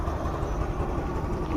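A Yamaha Ray scooter's engine idles steadily, a smooth low hum that stays continuous and even throughout without any revving.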